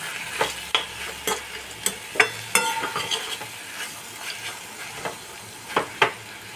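Fenugreek greens with chopped peanuts stirred in a frying pan, a low sizzle under repeated close spatula scrapes and taps at an uneven rhythm, no voices.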